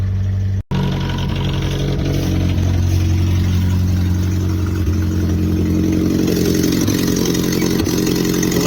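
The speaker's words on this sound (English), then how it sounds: "Of course it runs, because why wouldn't an 80 Love with the worst 4-cylinder ever designed run?" A 1980 LUV pickup's four-cylinder engine idles steadily and close, a low, even rumble with a light clatter on top that grows slightly rougher and louder near the end.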